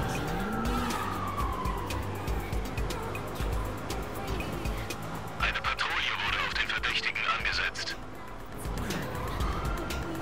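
Car driving in Watch Dogs 2 during a police pursuit: a steady engine and road roar with tire skids, a siren-like wail and a brief burst of rushing noise mid-way, loud throughout with no speech.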